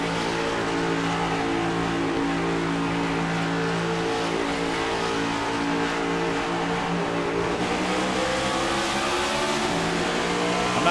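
A race car engine in a video game, at Indianapolis, roars continuously from onboard, loud and close, its pitch climbing and shifting with gear changes, with no voices.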